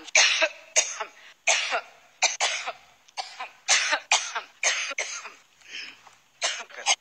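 Someone gives a steady run of sharp coughs and throat clearing, roughly one or two per second, close up with brief gaps between them.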